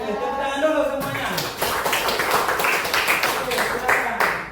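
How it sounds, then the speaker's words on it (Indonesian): Classroom applause from students at an Indonesian teacher-training presentation, a dense burst of many hands clapping that swells and carries on steadily for several seconds after a brief spoken lead-in. "Oke, tepuk tangan dulu semuanya."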